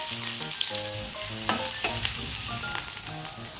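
Onion dropped into hot oil sizzles steadily in a pan, with frying crackle and scraping of a utensil over a continuous hiss, close and fairly loud, no voices.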